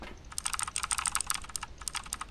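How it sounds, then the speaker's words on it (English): Rapid keyboard typing from the video game Phasmophobia, a burst of crisp, close key clicks in an uneven rhythm with brief pauses, heard alone without speech. "I'm typing an email, leave me alone."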